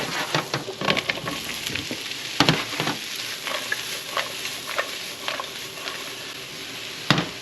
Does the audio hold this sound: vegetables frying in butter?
yes